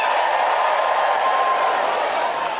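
A comedy show audience at a British talent competition semi-final roars and cheers, a dense sustained crowd wash that stays loud and even throughout, with no single voice standing out.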